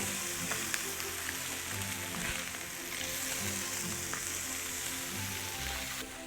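Wild Alaskan salmon pan frying in creamy butter sauce, giving a constant soft crackling sizzle with tiny pops and a low kitchen hum underneath, fairly quiet and even throughout.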